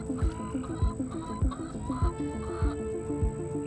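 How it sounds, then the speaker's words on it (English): Wet chickens cluck repeatedly in short, steady bursts on a farm, with a low thumping rhythm underneath and a constant high-pitched tone running throughout. "Poor soggy chickens."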